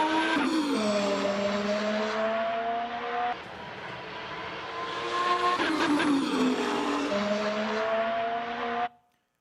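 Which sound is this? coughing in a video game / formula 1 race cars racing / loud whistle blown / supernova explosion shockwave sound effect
formula 1 race cars racing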